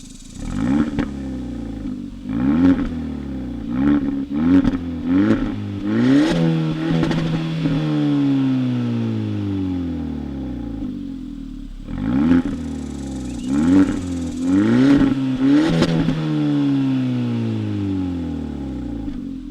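A 2019 Hyundai Elantra Sport's exhaust revs repeatedly up close, sharp blips rising and falling in quick bursts, then a pause before another round of revving.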